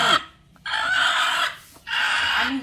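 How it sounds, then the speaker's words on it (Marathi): A broody desi hen sitting on a clutch of eggs gives two long, loud, harsh vocal calls close to the microphone. A short quiet gap separates them. "आता ही कोंबडी आहे ना अशी बसलेली आहे"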